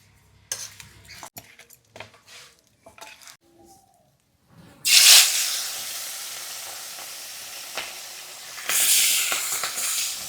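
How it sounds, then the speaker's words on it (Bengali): A few light clinks and handling noises come first, then river fish hits hot mustard oil with a sudden loud sizzle, which eases off and swells again near the end. "মাছটা পরিষ্কার করে ধুয়ে দিয়েছি এবার ভেজে রান্না করে নে"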